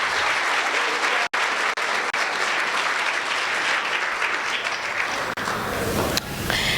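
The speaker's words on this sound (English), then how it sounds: "Let's give them a big round of applause." An audience claps loudly and continuously at an awards banquet, with dense clapping filling the room from start to finish and a few brief cuts.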